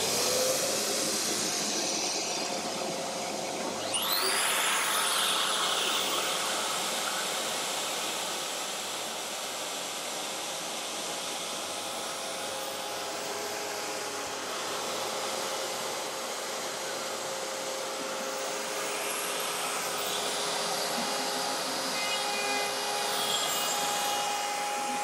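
Dust extraction vacuum runs steadily throughout CNC machining of a final pocket in a tool organizer on an Aureus 3X machine, a continuous broadband whoosh with faint tonal machining whine, loud and unbroken, no talking.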